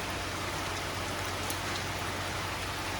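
Steady, even rain falls outside, making a continuous soft wash of patter with no distinct drops or voices breaking through.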